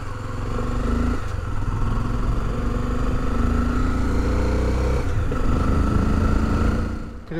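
A small, light motorcycle engine rumbles and revs steadily at close range, with faint clatter from the bike moving over rough, loose ground on a mountain border pass between Chile and Argentina.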